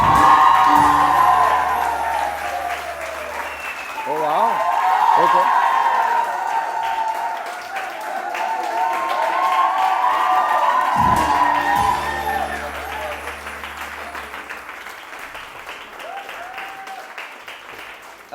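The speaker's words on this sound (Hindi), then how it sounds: "बहुत सारी तालियां" A morning-show studio audience keeps up sustained applause with scattered cheers and whoops, rising and falling in waves while voices speak over it.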